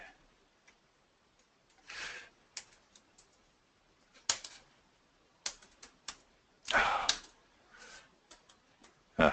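Keys clack on a computer keyboard in short, irregular bursts separated by quiet pauses, some strokes sharp and louder, with no voices over them.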